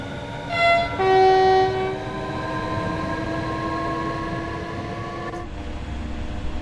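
Regional sprinter train from Train Sim World 5 on the Zwolle–Groningen line, with a horn blast near the start over a steady rumbling run and sustained tonal hum, ending with a brief click.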